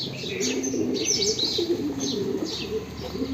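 A reddish pigeon circles over a rooftop, with repeated soft coos and chirps at moderate distance over a low steady background hum, and no voices.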